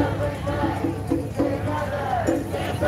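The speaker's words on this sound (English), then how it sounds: "There's someone screaming fuck Josh Friedman in the crowd, large crowd here in the Fairfax district." A large protest crowd in a street of Los Angeles' Fairfax district, a dense roar of overlapping shouts and chanting voices with rising bursts, loud and close throughout.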